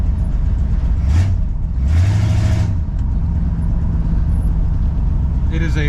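Old car engine running while driving around a neighborhood, a steady loud rumble throughout with low throbbing and a brief rise as it revs, with a voice talking over it.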